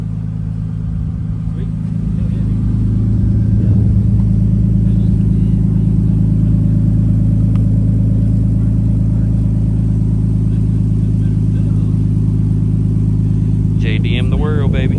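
A bone-stock Nissan RB20 engine fitted with a Tomei exhaust runs with a loud, steady, close-up rumble that holds for about thirteen seconds.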